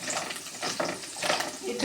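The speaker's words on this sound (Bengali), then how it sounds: "এটা যেমন একদিকে ভাজা হবে" Cinnamon, cardamom, raisins, onion and garlic sizzle in a pan: a soft, steady frying hiss with faint stirring scrapes, brief and moderately quiet.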